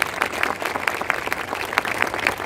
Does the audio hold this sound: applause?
yes